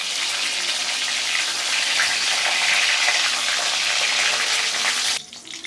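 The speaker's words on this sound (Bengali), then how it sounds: "তার জন্য আমি গ্যাসের উপরে কড়াই বসিয়ে দিয়ে সাদা তেল দিয়ে পটলগুলো ভাজতে দিয়ে দিচ্ছি" Pointed gourd pieces frying in white oil in a wok on a gas stove make a loud, steady close sizzle that runs unbroken for several seconds and then cuts off abruptly.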